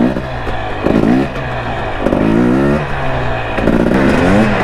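A dirt bike engine revs hard while being ridden, close and loud, with about four rising throttle bursts that climb and drop back between gear changes.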